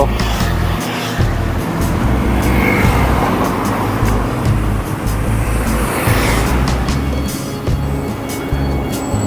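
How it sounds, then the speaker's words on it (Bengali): Steady car traffic on a main road in Bermuda: a loud, continuous roar of engines and tyres as vehicles pass close by, with no pauses. "গাড়ি ঘোড়ার শব্দ"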